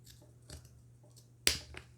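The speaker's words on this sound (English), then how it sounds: "you're going to take your scissors and you're just going to cut" Scissors cutting through fabric along a marked line or crease, with a few soft snips and then one sharp, loud snip near the end, close up in a quiet room.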